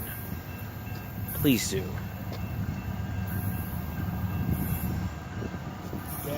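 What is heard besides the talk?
CSX freight train passing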